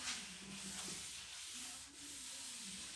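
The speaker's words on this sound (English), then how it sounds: "we're going to wipe off any of the excess wood conditioner that's on this top." A cloth wipes excess wood conditioner off a wooden tabletop, giving a steady, continuous soft rubbing scrape that runs the whole stretch with only slight dips, close and with no voices.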